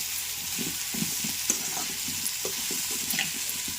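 A spoon stirs radish curry, mullangi pulusu, in a pan with a steady low sizzle, scraping and clinking softly in short irregular strokes, close by.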